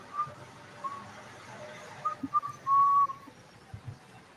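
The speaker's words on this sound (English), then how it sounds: "People are whistling." Distant whistling in short melodic bursts, with one longer sustained note, over faint background murmur outside a Manhattan court during jury selection.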